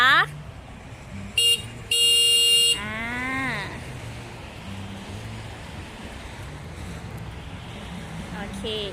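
Several short horn honks from a motorcycle close by, including a longer blast, then a quieter idling engine rumble continues.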